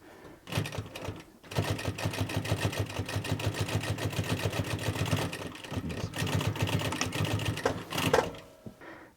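Zoje ZJ0303L heavy-duty industrial walking foot (shuffle foot) sewing machine stitching steadily, a fast even needle clatter running near and loud for most of the stretch, pausing briefly near the start and end.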